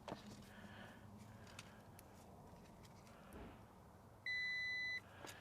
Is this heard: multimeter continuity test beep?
yes